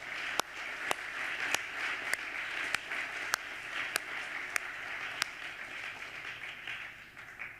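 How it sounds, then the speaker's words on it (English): Faint, sparse clapping at a classical art lecture, a few distinct sharp claps ringing out at regular intervals over a quiet hall ambience, as if from a small audience far from the microphone. "Can we please give these worthy winners a round of applause?"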